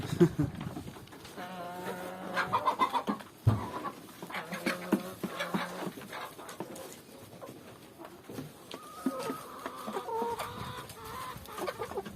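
Several free-range chickens cluck and chatter close by on a farm in overlapping bursts, with a few sharper squawks and some faint background talk.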